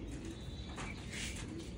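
Pigeons cooing at a loft where a breeding pair is kept, soft low coos running steadily through a noisy, close background with no talk.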